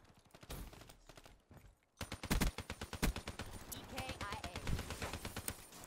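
Rapid automatic gunfire in the Black Ops 3 video game cracks in dense bursts, quieter at first, then louder, sustained volleys after a brief pause, with a voice faintly present.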